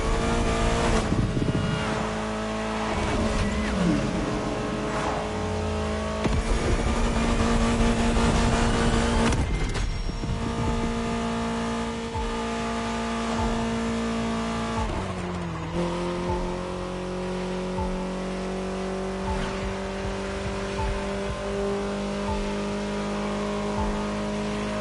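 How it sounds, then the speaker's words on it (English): A 1970 Dodge Challenger's engine in the video game The Crew Motorfest revs and pulls through gear changes, droning loudly and steadily with shifting pitch throughout, no talk. "your next killer partner, a 1970 Dodge Challenger"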